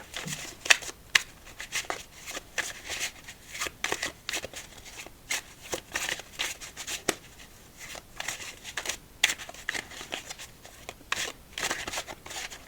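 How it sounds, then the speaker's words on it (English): Playing cards are riffle shuffled again and again, crisp fluttering bursts repeating in a steady rhythm, close and fairly quiet. "Let's get back to riffle shuffling."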